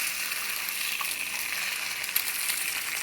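Egg frying sunny side up in a pan over high heat, a steady close hiss and sizzle with faint crackles, continuous and alone.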